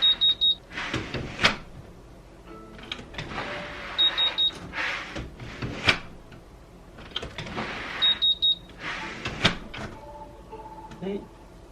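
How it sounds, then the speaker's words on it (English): A door alarm on a house entry door gives short high electronic beeps in small bursts as the door opens and closes, mixed with door handling clunks and a person talking nearby. "Now it should beep when I open and close the door."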